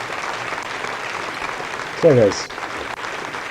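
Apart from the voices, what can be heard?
applause at satellite separation in launch control room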